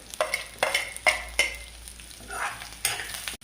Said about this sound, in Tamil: எல்லாம் வதங்கினக்கப்புறம் வெங்காயம் போடணும்